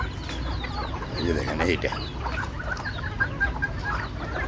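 Chickens cluck in a poultry shed where one hen is unwell, with steady soft clucks and scattered calls close by over a busy farmyard background, while someone speaks briefly.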